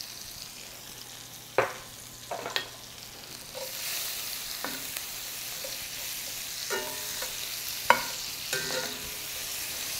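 Onions and bacon fry quietly in a pan with salt and sugar added, a low hiss that swells partway through, punctuated by several scraping clicks of a utensil stirring, with no voices.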